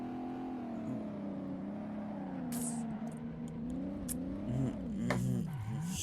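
A Lamborghini Urraco P300 engine hums in a steady, close drone, then rises and dips in pitch near the end as the car revs and pulls away.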